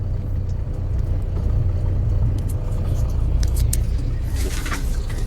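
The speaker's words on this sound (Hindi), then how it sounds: "ट्रायल ले रहे हैं कैसा गाड़ी कंडीशन में है, कैसा खींच रहा है" An Eicher truck with low pickup and an AdBlue fault is out on a test drive, its engine giving a loud steady low rumble throughout, with a few faint clicks and scrapes on top.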